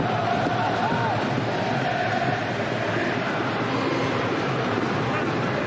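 Steady, dense roar of a football stadium crowd at an England versus Mexico friendly, loud and continuous throughout with a commentator's voice faintly over it.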